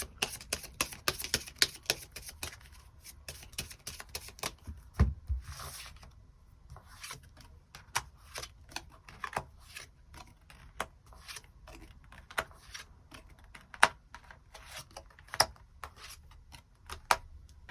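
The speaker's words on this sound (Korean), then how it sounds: "추가 카드로 일별로 월요일부터 일요일까지 어떤 하루가 있을지 추가 카드 뽑아보도록 하겠습니다" Tarot cards being shuffled and drawn at close range: quick papery riffles and soft slides come in dense bursts, with sharper flicks and taps scattered through a quiet room.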